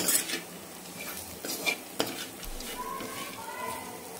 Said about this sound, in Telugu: దీంట్లో శనగింజల పొడి యాడ్ చేసుకొని ఇలా తిప్పుకోవాలి.